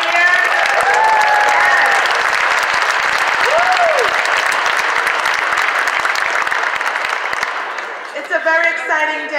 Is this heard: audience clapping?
yes